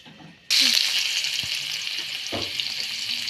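Chopped onions dropped into hot mustard oil in a wok burst into a loud, steady sizzle that begins abruptly and keeps hissing, with a couple of faint stirring knocks.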